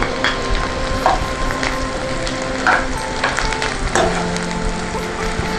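Shallots dropped into hot oil fry with a steady sizzle, with a few sharper crackles and the scrape of a stirring spoon rising briefly above the continuous hiss.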